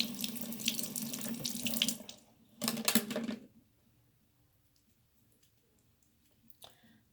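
Running tap water splashes into a sink as soap is rinsed from paint brushes, in two bursts, a longer stream then a shorter one, followed by near silence with a faint clink.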